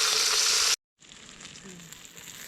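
Food frying in a hot kawali gives a loud, dense broadband sizzle that drops to a brief silence, then returns as a softer, steady crackle with faint background sounds.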